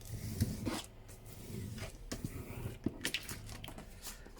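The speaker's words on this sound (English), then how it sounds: "Whoops, turn it over, give it a good little rub." A hand rubs back and forth over a paper journal card or tag in short, uneven scratchy strokes, close and fairly quiet, with no talking.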